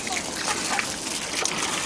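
Water trickles and splashes as it is poured onto a garden plant, a light continuous dribble close by with a faint voice in the background.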